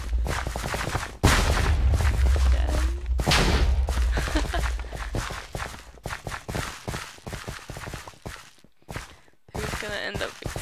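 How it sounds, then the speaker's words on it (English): Several explosions boom in a Minecraft clay-soldier battle, with dense, crackling bursts recurring through a busy game mix while someone commentates over them. "Oh, another couple of explosions."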